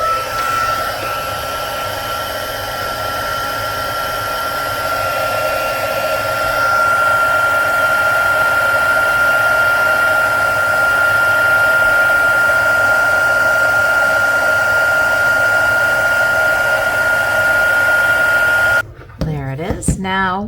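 Heat gun blowing steadily to heat-emboss powder on a stamped paper tag, a loud continuous whooshing hum that runs almost unbroken, cutting off near the end.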